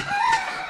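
A village rooster at a Konkan free-range poultry farm gives a short, close crow, one bright rising-and-falling call lasting under a second, with nothing else heard.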